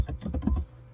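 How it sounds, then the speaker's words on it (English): Quick keystrokes on a computer keyboard while a password is typed, a short run of five or six soft, close clicks that stops after about half a second. "As I'm typing it, the system is not even showing me that I'm typing in something."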